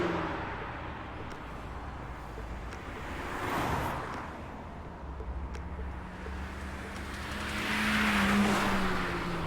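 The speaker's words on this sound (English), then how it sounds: "there's been an increase in illegally modified cars here. They race from midnight until dawn" Illegally modified cars racing through a city at night in Love and Deepspace, engines droning steadily with a couple of swelling pass-bys, a high whine near the end, all mixed with a broad wind-like roar.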